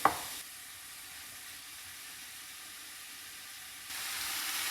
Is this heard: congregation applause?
no